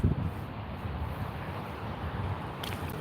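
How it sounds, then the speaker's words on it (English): Strong wind gusting outdoors beside a fast-flowing river, a steady low roar buffeting the microphone throughout with no voices. "this wind out here today is freaking crazy"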